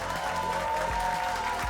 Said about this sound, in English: Everyone, round of applause, please.